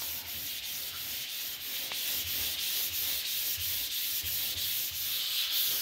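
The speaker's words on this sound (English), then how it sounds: "So sit here and just sand it and sand it." A car's primer coat on an 86 is hand-sanded smooth, a steady rhythmic scratchy rubbing that repeats in quick even strokes, close and continuous, with no talking.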